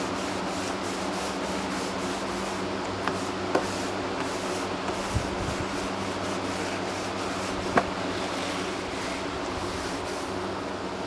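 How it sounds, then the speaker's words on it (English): Burnt, charred wooden boards are scrubbed with a brush in a steady, continuous rasping rub, with a few faint knocks scattered through. "As I'm brushing, I'm just getting over the edges a little bit."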